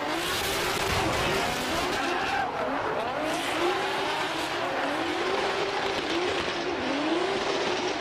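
A BMW and a Nissan Skyline battle in a French Drift Championship run, engines roaring continuously with rising and falling revs while tires squeal steadily throughout, loud and close.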